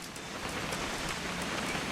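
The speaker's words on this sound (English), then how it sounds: "It's gonna rain the whole weekend" Steady rain in the video game What Remains of Edith Finch patters densely on a surface, a constant hiss with scattered drops, no voices.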